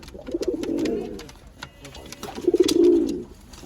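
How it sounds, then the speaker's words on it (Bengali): Two pigeons coo in a pair of low, throaty rolling bursts, one early and one near the end, fairly close, with faint background noise in the pause between them. "খুব সুন্দর পায়রা দুটো, দেখছেন?"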